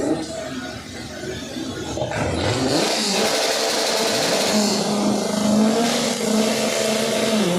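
Drag racing cars idling and revving loudly at the start line of a drag strip, a sustained roar with a rising engine note and a wash of crowd and track noise, no talking.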